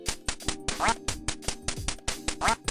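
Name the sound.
ducks quacking in video game Duck Hunt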